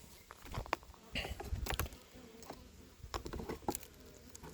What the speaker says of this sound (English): there looked like there's plenty of bees